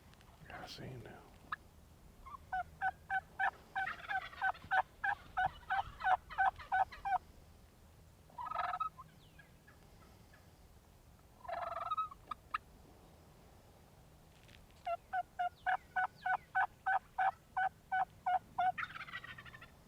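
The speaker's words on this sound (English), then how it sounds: "This bird gobbles at the call a few times" Several bursts of wild turkey gobbling ring out during a turkey hunt, some near and some farther away, answering a call. Quiet pauses and faint calls fall between the rattling volleys.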